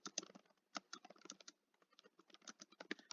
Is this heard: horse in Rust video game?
no